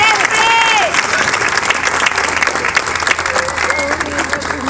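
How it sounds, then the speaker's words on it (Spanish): An audience at a rock and roll venue claps loudly and continuously in dense applause, with crowd noise, a few whistles and some cheering on top. "Brindemos un aplauso para que este lugar se siga haciendo rock and roll."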